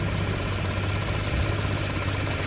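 The 3.6-liter direct-injection V6 of a 2021 Cadillac XT6 runs steadily with a low, even hum and hiss, heard up close from inside the car and constant throughout, without talking.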